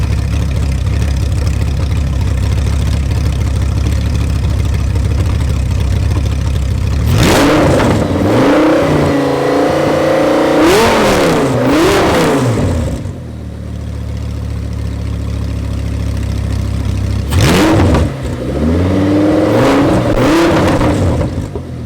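A loud, raw straight-piped Audi R8 V10 engine rumbles at idle, then revs hard in two sharp bursts, its unmuffled exhaust snarling up and down close by.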